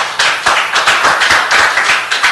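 Audience applause at a housing and community development public meeting, a steady burst of many hands clapping together that carries on for a couple of seconds, fairly loud and without talk.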